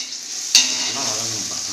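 Onions sautéing in a pan for Pallipalayam chicken, a steady broadband sizzle with a single sharp clink from the pan near the start and soft stirring scrapes after it.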